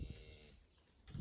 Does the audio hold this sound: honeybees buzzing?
no